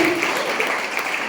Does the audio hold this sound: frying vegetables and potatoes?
no